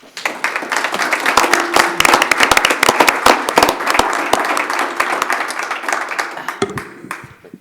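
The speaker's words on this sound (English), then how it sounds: "I think we could give Ron a round of applause" A round of applause in a county board of commissioners meeting room, many sharp individual claps from a small gathering, close and lively, tapering off as a voice begins to speak near the end.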